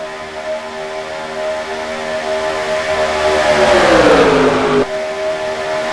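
Stock car engines roar loudly and steadily in the NASCAR Racing 2003 sim game at Atlanta, with droning tones and one car sweeping past with a rising then falling pitch before the pack hum continues.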